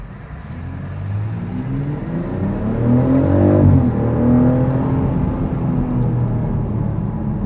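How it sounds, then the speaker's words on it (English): A 2025 BMW X3 M50 accelerates hard on a road, its engine note rising steadily through the revs before easing into a sustained loud drone, heard from inside the car with no talking. "we'll do one last acceleration and call it a day."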